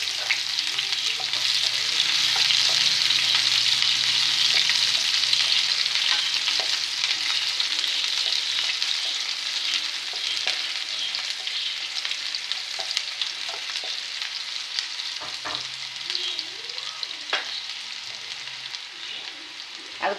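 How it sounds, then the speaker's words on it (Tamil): Mustard seeds splutter and onions fry in hot oil for a yam (senai) fry, a loud continuous sizzle with scattered crackling pops and occasional stirring scrapes, easing slightly toward the end. "கடுகு பொரிஞ்சதுக்கப்புறம் சடன்னு பொரியும் போதே வெங்காயம் போட்டுறணும்"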